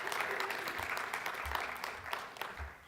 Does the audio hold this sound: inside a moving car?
no